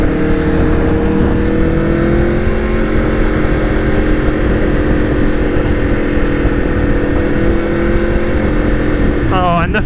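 An Aprilia Tuono V4 1100 road motorcycle being ridden, its engine a loud, continuous droning hum with layered tones under steady wind rush, held almost constant with only slight shifts in pitch.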